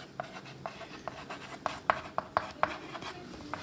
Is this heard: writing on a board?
yes